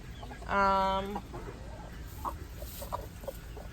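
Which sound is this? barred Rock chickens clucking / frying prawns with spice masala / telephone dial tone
barred Rock chickens clucking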